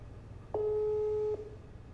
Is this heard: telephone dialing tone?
yes